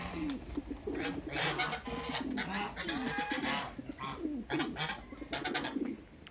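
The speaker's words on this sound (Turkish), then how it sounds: "Böyle dışarıda kavga eden güvercin de ilk defa görüyorum ha." Pigeons fighting outdoors give continuous low throaty cooing and grunting, with soft scuffles and flutters mixed in.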